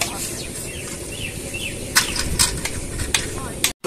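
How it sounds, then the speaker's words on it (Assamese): Jolokia chillies fry in a pan with a continuous close sizzle, broken by several sharp scraping stirs, while faint voices are heard nearby. "জলকীয়া ভাজি বনি গ'ল নেকি"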